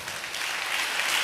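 A church audience applauds during a pastor's sermon, with dense, steady clapping that rises slightly toward the end of the short burst and has no voices over it.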